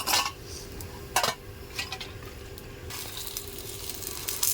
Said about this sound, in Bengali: সবগুলোই ভেজে নেব